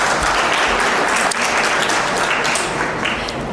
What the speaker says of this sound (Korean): 선생님께 다시 한번 박수 부탁드립니다